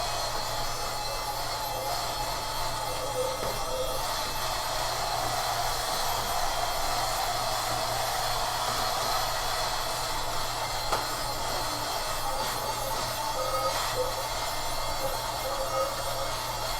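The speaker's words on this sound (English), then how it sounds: "now I'm going to vacuum it up." A steady, loud vacuum motor drones without pause, a constant broadband whir with a low hum underneath and no voices.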